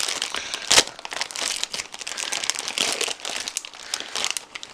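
Plastic and cardboard packaging from a Behringer Xenyx 302USB mixer crinkles and rustles steadily as it is unwrapped close by, with one sharper crackle near the start.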